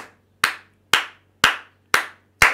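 Five sharp hand claps in steady unison, evenly spaced about half a second apart, from a church congregation during a French-language service, loud and close with no talk between them.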